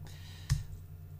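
A single sharp computer mouse click on a bullet point button, close and distinct over a low steady hum.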